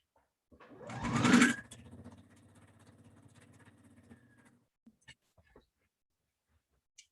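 Sewing machine running at a steady stitch around a curved pocket piece on a dress, starting with a brief louder burst, then a sustained even hum before stopping, followed by a few small clicks.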